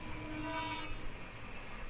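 The East Coast Express from Charlapalli to Shalimar pulls into Tadepalligudem station on platform 2, a faint, steady rolling rumble with a brief horn-like tone early on that fades, leaving low train noise.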